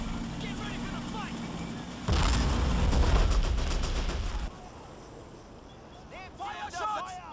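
Men of War battle gunfire, a heavy burst of shots and artillery booms swelling in the middle, set among soldier voices shouting before and after in the wartime strategy game.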